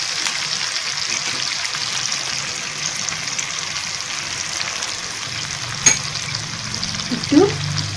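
Chopped onions frying in a pan sizzle in a dense, continuous hiss up close, with a couple of brief stirring clinks near the end.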